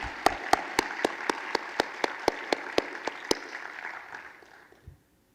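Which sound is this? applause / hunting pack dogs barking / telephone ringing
applause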